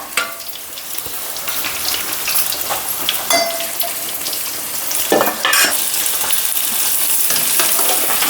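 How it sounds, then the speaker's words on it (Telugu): Onions frying in oil for a gongura fish fry, a steady close sizzle with occasional stirring scrapes and clinks of a utensil against the pan, no voices. "ఉల్లిగడ్డ కూడా నూనెతోటే కాల్చుకోవాలి"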